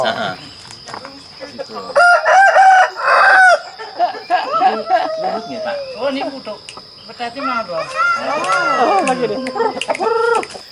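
A young fighting cock, about seven months old, crows in Java, Indonesia, with several long crows close by over a constant high insect buzz, and faint voices in the background.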